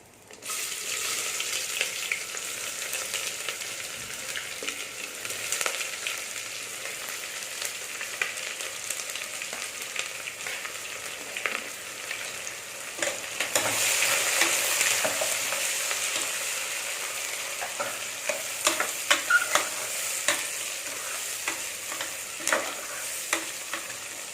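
Onions fry and sizzle in a pan while being stirred for Dindigul Thalappakatti style mutton biryani, a close, continuous crackle with scraping stir strokes growing busier toward the end.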